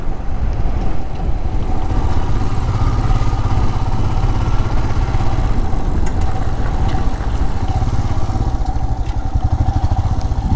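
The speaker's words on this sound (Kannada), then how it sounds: "ಬೈಕ್ಗಳು ಒಂದೆರಡು ಮೂರು ಬಂದಿದ್ದಾವೆ" Motorcycle engines idling near a roadside hotel at Sitanadi on the Agumbe ghat route, a loud continuous throbbing rumble that stays steady throughout with no talk over it.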